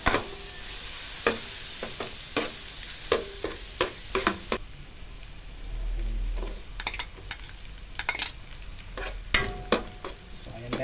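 Garlic fries in butter for a seafood boil sauce, giving a soft, steady sizzle broken by repeated sharp scrapes and clicks from stirring in the pan, close and fairly quiet.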